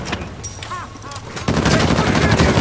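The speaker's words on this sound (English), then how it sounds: "And just keep shooting his head." Gunfire in the video game Uncharted 4 Survival Mode, starting as scattered shots with metallic ringing and then turning into dense, loud, continuous automatic fire.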